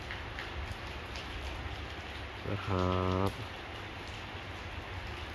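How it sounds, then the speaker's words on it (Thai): Light rain falls steadily as a soft, even hiss throughout, while someone speaks briefly over it near the middle. "ดูบรรยากาศครับฝนตกไม่ได้แรงมากนะครับ"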